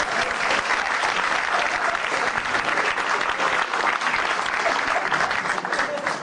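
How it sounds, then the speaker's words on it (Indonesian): A crowd at an Indonesian stand-up comedy show breaks into loud, dense applause that holds steady throughout, close and continuous with no pauses. "Boleh tepuk tangan sekali lagi."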